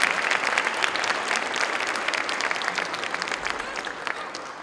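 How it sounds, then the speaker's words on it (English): A school concert audience applauds loudly, dense clapping from many hands sustained evenly throughout, tapering slightly toward the end. "Another round of applause."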